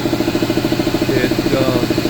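A small, quiet air compressor runs steadily at close range, giving a continuous low mechanical hum with a regular pulsing throb and no pauses.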